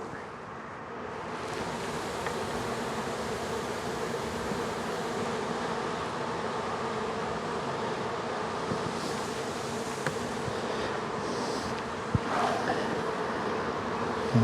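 Dense, steady droning of many honeybees at an opened hive during a colony split in late May, a close, continuous buzz that holds evenly throughout with a few faint knocks near the end.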